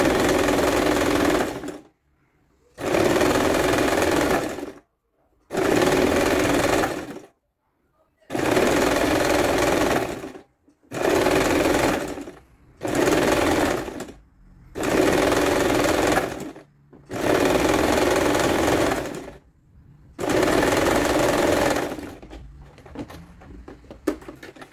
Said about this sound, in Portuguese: Uma costura reta pra rebater toda essa costura, tá?